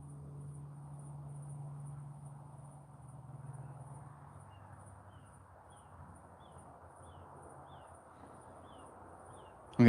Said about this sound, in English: I'm getting lost in the songs of the bugs.